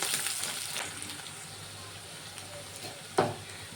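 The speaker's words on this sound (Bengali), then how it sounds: "পেঁয়াজটাকে আমি একটু ভেজে নেব" Chopped onion frying in hot oil with nigella seeds, a quiet steady sizzle with a couple of light stirring scrapes and a brief clatter near the end.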